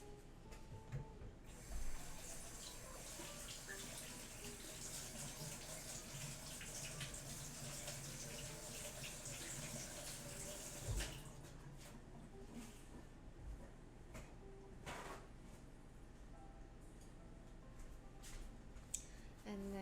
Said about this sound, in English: Let's wash up our mint leaves.